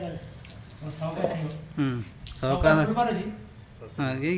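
About 100 ml of water runs and splashes into a container for mixing a farm spray, beneath a steady stream of close talking.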